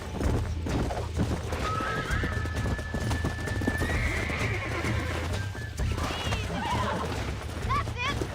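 A horse in Red Dead Redemption whinnies with a long, high neigh while its hooves clip-clop steadily underneath, and a voice talks intermittently over the game sounds.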